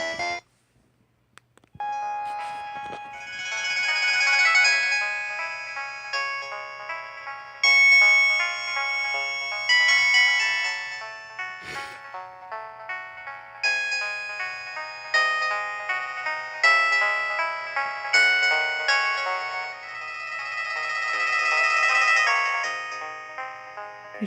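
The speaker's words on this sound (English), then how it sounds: "I don't actually know when this ringtone's gonna end." An old LG flip phone plays a polyphonic ringtone, a bright, tinkling electronic melody of bell-like notes that loops on and on for a long stretch, loud and alone.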